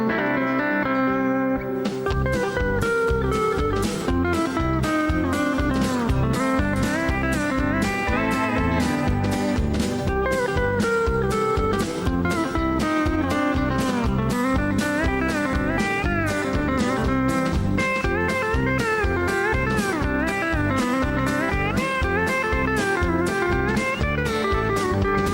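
Steel guitar instrumental as a full band recording, with fast, bright picked steel lines over a steady driving rhythm section, loud and continuous throughout with no talk.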